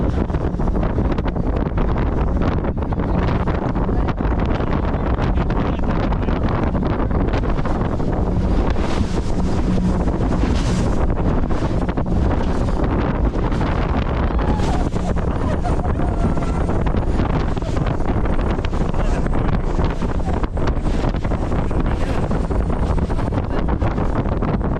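A speedboat racing fast on the open sea off the Algarve coast near Lagos, Portugal, with heavy roaring wind buffeting the microphone, continuous engine drone and slapping water, loud and unbroken throughout.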